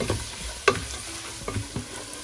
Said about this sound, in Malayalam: കറിവേപ്പിലയും കൂടെ ചേർത്തിട്ട് ഈ സമയമാകുമ്പോൾ ഒരു മീഡിയം ഫ്ലെയിമിലിട്ടിട്ട് നന്നായിട്ടൊന്ന് വഴറ്റിയെടുക്കുക.